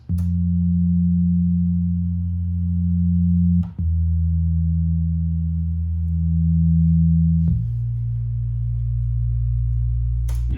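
A deep synthesized bass line from a Serum synth, distorted, holds long sustained notes with a steady, buzzy low tone, changing pitch a couple of times, loud and alone.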